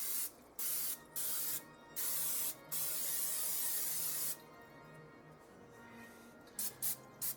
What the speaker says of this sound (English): Make sure you spray your cake pan,